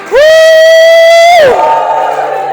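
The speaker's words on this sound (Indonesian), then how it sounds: "Bisa teriak haleluya." A church congregation of some three thousand people shouts together in one loud, sustained cry that rises, holds steady and then drops off into a lower, rumbling crowd roar.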